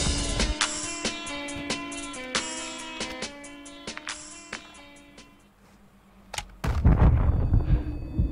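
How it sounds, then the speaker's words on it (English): Friendly airstrike explosions in a video game come as a rapid run of sharp, booming blasts, then a short lull before a heavier, rumbling final impact close by. "Friendly airstrike in the AO."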